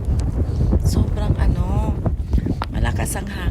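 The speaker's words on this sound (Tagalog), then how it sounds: "malakas ang hangin." Strong wind buffets the microphone with steady low rumble throughout at sunset in Death Valley, California, while a person talks over it.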